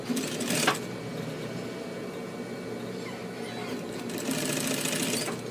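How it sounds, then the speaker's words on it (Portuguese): A sewing machine stitches a fold on men's denim jeans in a fast, steady mechanical whir. It runs in bursts near the start and again near the end, fairly close and moderate in level. "vou fazer uma dobrinha aqui e vou passar uma costurinha aqui só para ela ficar firme aqui"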